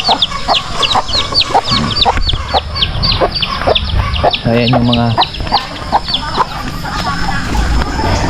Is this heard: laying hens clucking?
yes